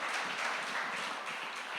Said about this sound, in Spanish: Démosle otro aplauso al Señor.